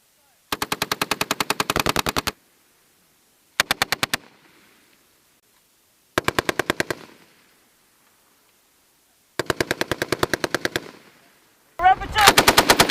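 An M240B machine gun fires several short, rapid bursts of sharp shots outdoors, with clear gaps of silence between the bursts and a final burst cut off at the end.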